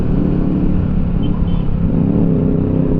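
Slow, congested road traffic of cars and motorcycles, a steady loud rumble of idling and creeping engines close by with no clear pass-bys.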